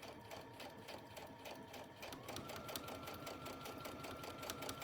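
A sewing machine top stitches a round zipper pouch, running at a slow, even pace with rapid rhythmic needle clatter, close and fairly loud, picking up slightly in the second half.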